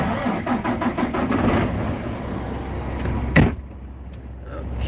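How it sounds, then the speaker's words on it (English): A vehicle engine cranks in a rapid rhythmic churning, then catches with a sharp burst and settles into a quieter steady idle close to the microphone. "Well, better start her up here."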